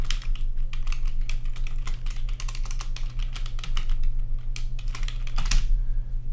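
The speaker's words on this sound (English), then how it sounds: "right here you can type your new name" Fingers tap out a new account name on a computer keyboard, a close run of quick, uneven clicks over a low steady hum, ending with a firmer keystroke.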